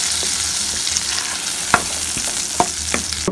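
Ginger chutney being stirred in a kadai with the stove off, giving a steady soft sizzle under scattered spoon scrapes and clinks against the pan, with no voices.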